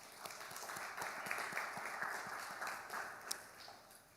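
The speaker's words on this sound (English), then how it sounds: "Let's give them a round of applause" Audience applause at the 13th Ghana Economic Forum 2024, a steady wash of many hands clapping in a large hall, moderately distant and sustained for several seconds with no talk over it.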